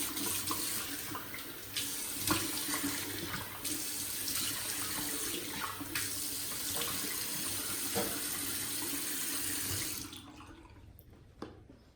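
Water runs from a bathroom sink tap in a steady close stream while a face is rinsed after a wet shave. It splashes for about ten seconds and then shuts off, leaving near silence.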